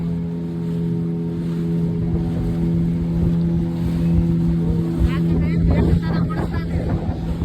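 A motorboat rides on open water, its engine droning steadily as water rushes and splashes along the hull, loud and close, with wind noise, and a burst of spray noise near the end.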